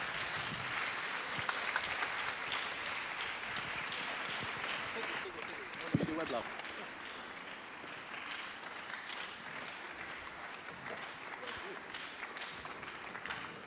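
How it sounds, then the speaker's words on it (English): A live audience at a Christian hangout event applauds to welcome the host, sustained, even clapping throughout with a brief louder burst midway and a voice faintly under it. "With a round of applause, shall we please welcome the host of PCH, Pastor Albert Okran."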